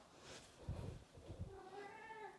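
A cat gives a single faint, drawn-out meow near the end of a quiet indoor stretch after soft rustling, with no one talking over it.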